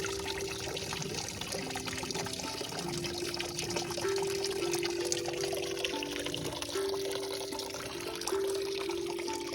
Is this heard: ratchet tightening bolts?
no